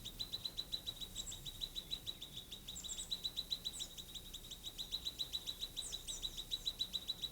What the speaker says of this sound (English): Collared bush robins live and raise their chicks here.